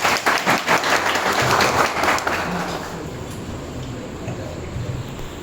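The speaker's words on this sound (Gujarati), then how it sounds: "જોરદાર તાળી સ્વાગત કરો" Loud applause from an audience welcoming a speaker back at a farewell ceremony, dense clapping at the start that gradually thins and fades toward the end.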